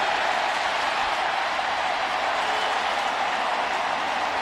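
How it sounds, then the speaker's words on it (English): A football stadium crowd at a Raiders versus Seahawks game roars in a steady, dense wash of cheering and noise, loud and unbroken throughout. "here's some of the roar of the crowd"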